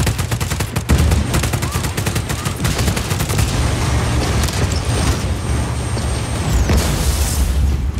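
Gunfire from Just Cause 4 aimed at a generator: dense rapid automatic shots in a loud continuous burst, with booming impacts and a short break before firing resumes.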